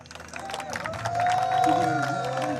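An audience at a Malayalam stage show claps and cheers to welcome a mimicry artist and singer, a short, lively burst of applause with a voice talking over it.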